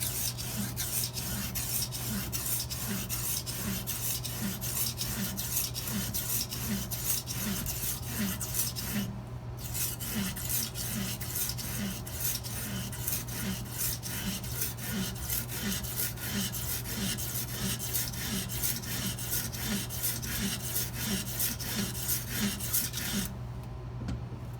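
Edge Pro sharpening stone drawn across a chef's knife blade at about 19 degrees, a continuous rhythmic gritty rubbing with steady back-and-forth strokes, close and even, with no talking.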